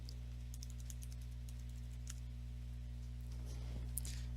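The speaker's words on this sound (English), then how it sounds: "Type in the password for the account." Someone types a password on a computer keyboard, a quick run of soft, close key taps over a low steady electrical hum, ending in a slightly louder burst of keystrokes.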